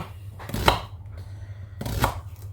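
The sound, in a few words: chopping shallots with a knife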